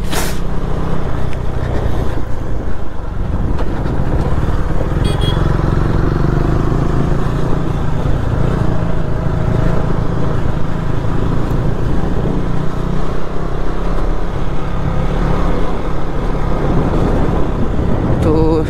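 A motorbike rolls along a rural road toward a hill viewpoint, its engine droning loud and constant with heavy wind rush and road rumble for the whole stretch.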